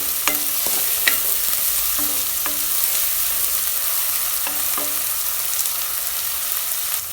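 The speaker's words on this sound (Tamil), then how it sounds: "இப்போ பார்த்திங்கன்னா இஞ்சி பூண்டு பேஸ்ட், வெங்காயம் எல்லாமே நல்லா வதங்கிடுச்சு" Onions and ginger-garlic paste sautéing in a pan for a vegetable kurma, with a steady sizzle broken by repeated scraping and stirring clicks of a spoon against the pan, close and alone.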